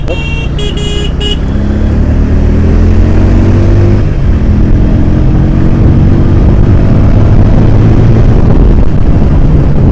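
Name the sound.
Bajaj Pulsar N150 motorcycle engine accelerating hard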